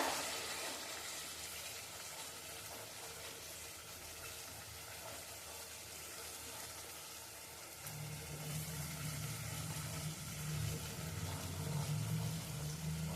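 A pot of curry bubbling steadily at a simmer, with the oil separating, a low rumbling boil that grows louder and fuller partway through.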